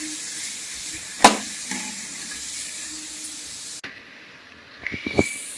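Three green chillies and a large tomato sauté in a hot pan, with a steady, soft sizzling hiss broken by a few sharp clinks and scrapes from stirring.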